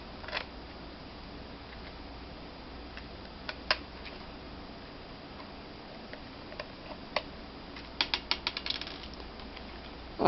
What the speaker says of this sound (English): you can watch me turn a screwdriver over and over again